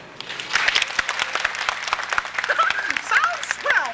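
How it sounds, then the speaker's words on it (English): Live audience applause at the Muppet Show Live stage show at Walt Disney World MGM Studios, a short burst of clapping mixed with cheering, whoops and overlapping voices. "just listen to this applause"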